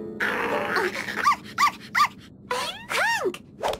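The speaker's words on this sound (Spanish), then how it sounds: "Tiene que haber algo peor que un perro de tres cabezas" Three-headed dog growling in an animated cartoon series set in a monster hotel: a low rumbling growl rising into a series of whining, yelping vocal bursts, close and loud with no talk.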